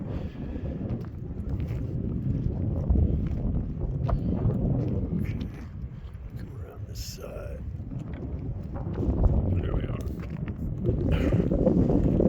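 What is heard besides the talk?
wind blowing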